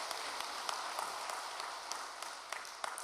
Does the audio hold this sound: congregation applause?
yes